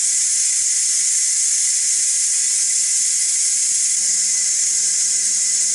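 Steam hissing from the pressure release of a Ninja Foodi Deluxe pressure cooker, a loud, steady high hiss that runs without a break, close up and unaccompanied by talk.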